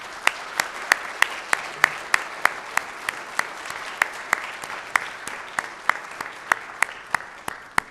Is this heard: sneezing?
no